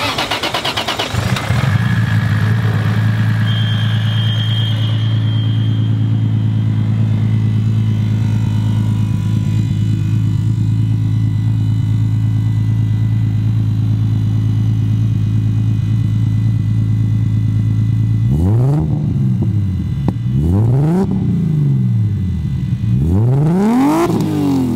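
A 2003 Lexus IS300 with a swapped 2JZ inline-six fires up and settles into a loud, steady idle, then near the end blips through several sharp revs that rise and fall close by.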